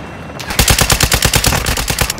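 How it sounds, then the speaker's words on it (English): Rapid automatic gunfire in Call of Duty: Warzone on Ashika Island, a steady burst of close, loud shots in even rhythm following a brief quiet start. "You are taking effective fire."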